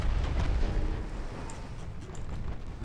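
Heavy rumbling explosion from a torpedo strike in a naval warship game, a dense low boom that rolls on steadily with crackling debris noise and no talk.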